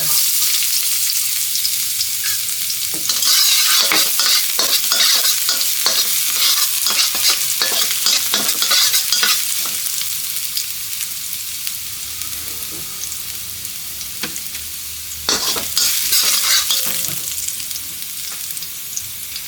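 Loud, steady sizzling of garlic frying in hot oil, with bursts of stirring and scraping in the pan, no one speaking.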